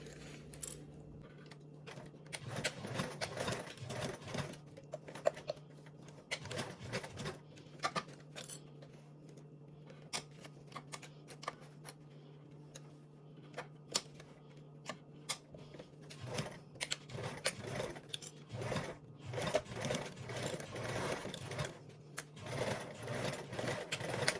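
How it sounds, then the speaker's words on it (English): A sewing machine runs fairly quietly and continuously along a seam with a 3/8 seam allowance, its steady hum broken by brief back-tack stops and light clicking of fabric handling. "sew down, back tack a little bit, and then sew all the way down to the bottom"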